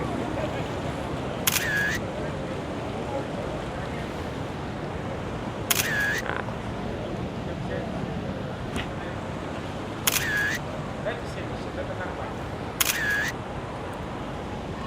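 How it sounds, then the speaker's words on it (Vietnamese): Camera shutter clicks from photos taken at a spot in Kuala Lumpur, four crisp isolated snaps spaced a few seconds apart over steady outdoor city background noise. "Mình sẽ chụp vài tấm hình đứng chỗ này nha."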